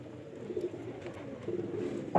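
Soft, low cooing calls from a Sialkoti batera quail breeder pair, faint and close, repeating gently over a quiet room background.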